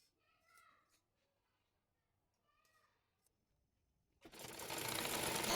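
An electric sewing machine stitching two fabric panels of a round-necked garment together: a loud, steady, fast whirring run starts abruptly after a quiet stretch that holds brief bits of a voice.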